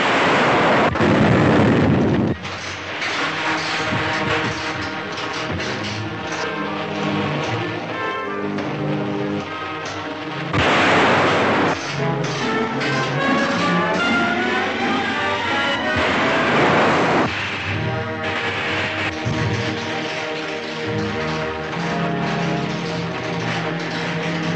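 A 1930s pulp science-fiction audio drama plays booming gunfire effects: heavy roaring blasts and crackling bursts come in several waves over a dense musical score, loud and sustained.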